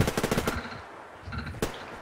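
Automatic gunfire in Survarium during a PvP match: a rapid burst of shots up front, then quieter distant firing and one sharp shot near the end, with no talk.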